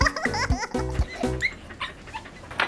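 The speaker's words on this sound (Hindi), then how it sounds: "ओए ये मजदूर का कुत्ता है" A cartoon dog barks in short, sharp bursts, several in quick succession, mixed with high laughing and whimpering voices in a busy animated scene.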